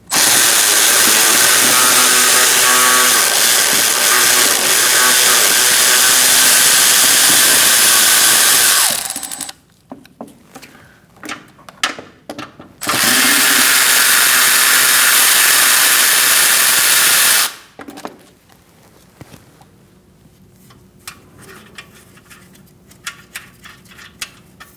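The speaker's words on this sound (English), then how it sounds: "I'm using a 10mm socket with an extension, and I'm going to remove these nuts." A power driver turns a 10mm socket on an extension, removing washer reservoir nuts on a 2016-2019 Chevrolet Cruze. It gives two long, loud, steady whirring runs separated by quiet clicks and handling noises, then fades to near silence.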